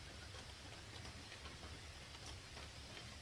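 Steady outdoor rain falls as a dense, even hiss of countless drops, with no pauses or other sounds.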